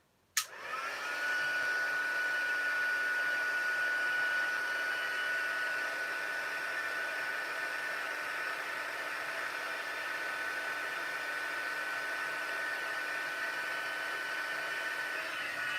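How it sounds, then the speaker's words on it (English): An embossing heat gun clicks on and runs with a steady, loud airy whoosh and a constant whine, heating up alone without talk. "I'm just going to heat my heat tool up."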